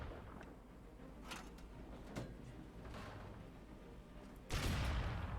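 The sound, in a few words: tank main gun and 30mm cannon firing together, War Thunder video game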